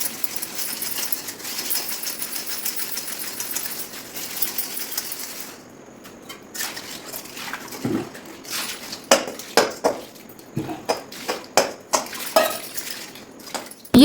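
A small, badly burnt kadhai is scrubbed and knocked about at a sink, first as a steady rough scraping, then as a series of sharp metallic clanks and taps of the pan against other utensils, close and fairly loud.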